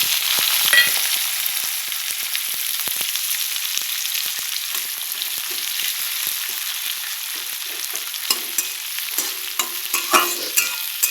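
Onions and green chilies fry in hot oil over cumin seeds for a fish curry, giving a steady close sizzle with scattered crackles and occasional stirring clicks, no talking.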